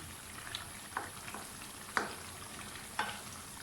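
Bottle gourd and mutton salan sizzling in ghee, a steady close hiss broken by a spoon scraping and stirring through the thick mixture about once a second.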